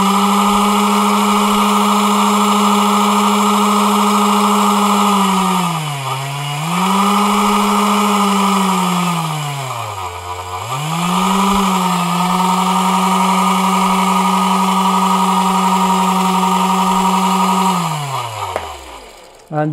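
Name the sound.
DC motor running at 12 volts via MOSFET module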